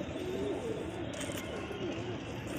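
Pigeons coo softly and continuously in a rooftop loft with around forty birds, a low burbling murmur filling the whole stretch with no talk over it.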